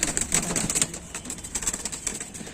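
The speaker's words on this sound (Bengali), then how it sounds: "একদম অ্যাক্টিভ পায়রা, ওড়ার জন্য তোমার প্রচুর ছটফট করছে" Active pigeons restlessly fluttering and flapping their wings, with bursts of rustling wingbeats and soft cooing, close by throughout.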